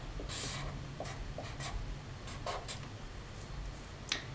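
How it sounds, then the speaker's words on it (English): A pen or pencil draws a graph by hand on paper, making faint, close scratching strokes in short separate bursts over a quiet background. "So I'll draw a graph right here."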